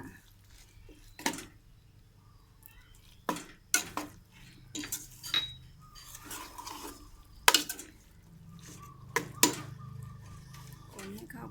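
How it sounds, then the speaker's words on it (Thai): Fish sauce goes into a cooking pot for a Isan-style chicken dish, followed by scattered clinks and scrapes of a utensil against the pot over a quiet background, with someone talking between them. "ใส่น้ำปลาลงไป ใส่น้ำปลาลงไปค่ะ"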